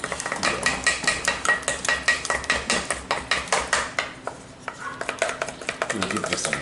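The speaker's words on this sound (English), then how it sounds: "We'll give this a nice whisk" A whisk beats a seasoned stuffing of crab, shrimp and lobster in a bowl, with quick, rhythmic clicks and scrapes that run steadily and fairly close, pausing briefly near the end before resuming.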